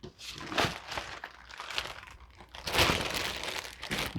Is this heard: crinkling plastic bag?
yes